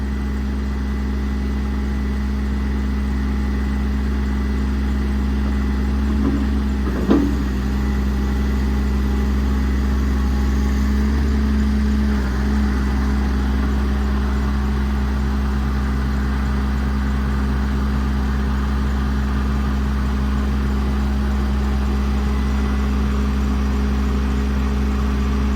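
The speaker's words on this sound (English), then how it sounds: "the EnPak will idle up like you just saw." An EnPak power unit mounted on a 2018 Ram 5500 Cummins diesel work truck idles with a loud, steady low hum, its droning tone holding evenly throughout with one brief knock partway through, no talking.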